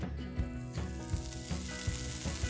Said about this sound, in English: sprinkle some grated hard cheese in a hot skillet